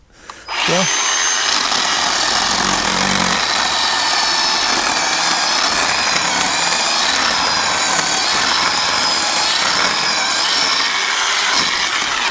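A Harbor Freight 10-inch electric chainsaw cuts into hardwood, its motor whining up fast and then holding one loud, steady buzzing tone for the whole stretch.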